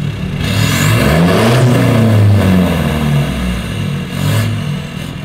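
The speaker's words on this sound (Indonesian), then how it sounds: "kita ganti knalpotnya dari PPD Australia 3 inch free flow, suaranya serem" Toyota Hilux with a stage 1 remap and a PPD Australia 3-inch free-flow exhaust revving hard, a loud, deep rumbling engine that swells, falls back and rises again, close by and with no talk.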